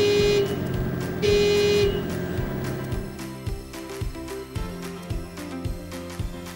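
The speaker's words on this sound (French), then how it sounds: "Testez le klaxon en appuyant sur le bouton haut du joystick de droite." Potain tower crane horn sounded from the cab joystick button, two loud sustained honks followed by a run of regular mechanical clunks and beeps, with no talk.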